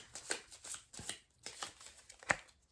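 Oracle cards being shuffled by hand in a series of soft riffling bursts and slaps, several rustling pulses with a sharp snap near the end, close and fairly quiet with no talking.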